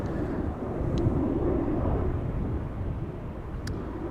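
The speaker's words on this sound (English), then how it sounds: "We have a KLM A330-200 lining up on center right now" A KLM Airbus A330-200 lining up on the center runway at Amsterdam Schiphol gives a steady, low, broad jet engine roar at a distance, continuous and unbroken, with faint brief ticks over the top.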